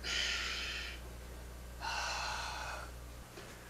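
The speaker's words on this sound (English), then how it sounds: "Watch my breathing. It goes with the punch." Two forceful breaths, one short and one longer, pushed out with kung fu punches in a Shaolin Northern Tiger training session, close and loud over a low steady hum, with no talking.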